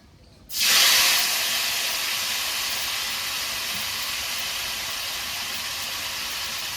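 Marinated khoyra fish hits hot oil tempered with dried red chili and whole cumin, setting off a sudden loud burst of sizzling that settles into a sustained, even hiss.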